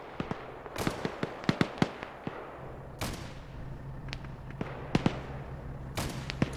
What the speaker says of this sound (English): we do have one guy to the west shooting at us